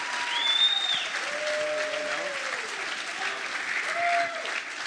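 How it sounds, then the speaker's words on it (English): An audience at a political town hall claps in a sustained, dense round of applause, loud and even throughout, with a few faint whistles or cheers rising above it. "Give Alina a round of applause."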